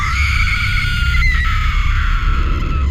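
A loud, sustained high-pitched scream rings out, wavering slightly as it holds for a few seconds.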